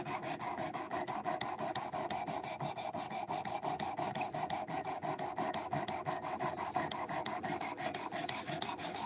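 Rapid, even back-and-forth rasping of 220 grit abrasive sanding and cleaning up a piece, loud and close, with about six strokes per second continuing throughout.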